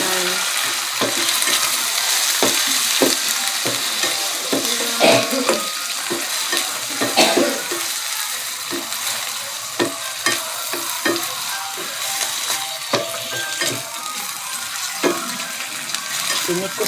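Eggplant and tomato frying in a pan, stirred with a utensil: a steady sizzle runs throughout, with repeated sharp scraping and clacking strokes of the stirring at close range.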